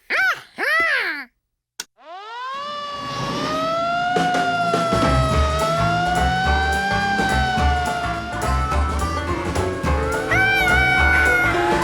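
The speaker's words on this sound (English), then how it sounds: "You want to get the siren, George?" A few short chirps, then a fire siren at a firemen's muster games winds up loudly and holds a long, wavering wail.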